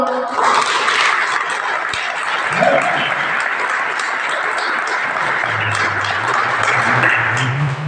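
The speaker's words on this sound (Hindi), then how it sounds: "जोरदार ताली बजा रहे हो।" A congregation claps loudly during church prayer, a continuous dense patter of many hands that holds steady throughout, with some voices mixed in and a low tone entering near the end.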